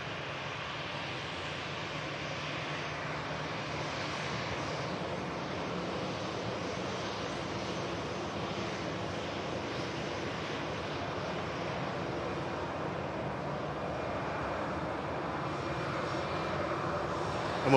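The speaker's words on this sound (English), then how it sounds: "another Dreamliner is turning on to final approach as well" A Boeing 787 Dreamliner airliner on final approach at Manchester Airport, a steady broad jet roar heard from a distance, holding level and swelling slightly near the end, with no talk.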